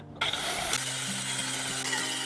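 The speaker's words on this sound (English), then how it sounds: "Every bolt is tightened with exacting care." Bolts on the steel frame of a restored 50-year-old buried water truck are tightened with a ratchet. The clicking runs steady and close, with dense mechanical texture and no voices.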